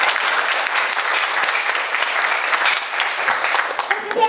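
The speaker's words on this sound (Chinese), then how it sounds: "大家掌声鼓励一下" An audience applauds at a formal gathering, steady dense clapping filling the whole stretch at fairly loud, even level with no voices above it.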